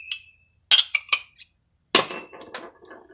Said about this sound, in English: So I'm just going to give these a quick snug.